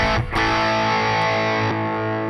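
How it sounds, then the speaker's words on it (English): Electric guitar through a Wampler Brent Mason ReWired overdrive/distortion pedal, a thick sustained distorted chord ringing out after a quick strum, heard close and loud with no talking. "I mean, just the distortion."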